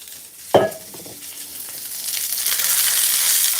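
Chinese long beans go into hot oil with a sharp clatter, then a sizzle that swells and holds steady, close and loud, with no speech.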